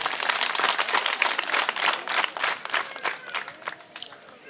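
Audience at a ceremony applauding the parents, a steady burst of many hands clapping with uneven rhythm, fairly close and continuous, with some voices mixed in.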